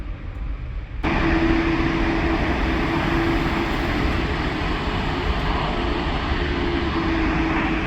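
A cargo Boeing 777 jet engine roars loud and steady, the noise jumping up abruptly after a quieter opening second and holding a constant drone with a faint tonal whine.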